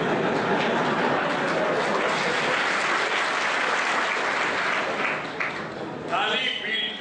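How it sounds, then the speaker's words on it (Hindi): Audience applause at a weekly seminar addressed by Bihar Agriculture Minister Narendra Singh, loud and continuous from a large crowd, thinning slightly near the end as other noise creeps in. "ताली पीट कर तुमने शर्मिंदगी महसूस की और मेरी बातों पर ताली कदापि नहीं पीटना"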